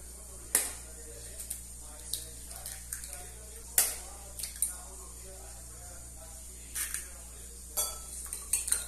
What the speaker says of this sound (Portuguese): Vamos misturar aqui os ovos.